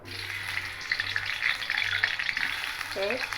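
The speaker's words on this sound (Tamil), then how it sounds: "இப்போ நம்ம ஃபிஷ் போல் பொரிக்கலாம்." Continuous crackling sizzle of vegetarian fish balls deep frying in hot oil, with small bubbling pops throughout, close and steady.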